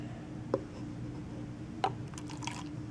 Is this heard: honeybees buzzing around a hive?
no